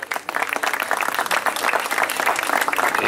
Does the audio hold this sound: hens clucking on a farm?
no